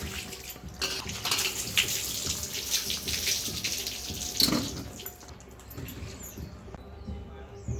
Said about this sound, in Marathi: तर आता आपले जांभळं धुवायला लावलेत आईनी.